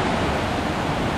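Rushing water from waterfalls in San Carlos, Antioquia, Colombia forms an unbroken, even hiss and rumble, moderately loud and close, with no talking.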